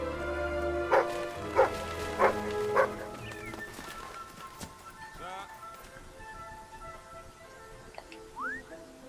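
A dog in the video game Fable III barks four times in an evenly spaced series. The barks are close and clear over tonal game music, followed by softer yips and game sounds.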